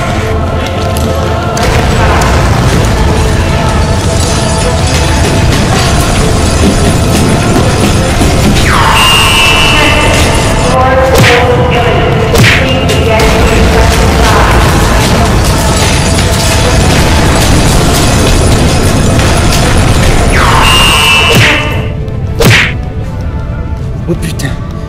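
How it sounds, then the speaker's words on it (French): Core explosion scene in a French action comedy film, a loud dense barrage of booms, whip-like cracks and crashing impacts layered over a continuous rumbling score, with shouted voices mixed in. "Attention, core explosion imminent."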